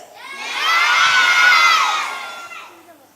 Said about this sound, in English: Are you all ready to cheer for our leaders?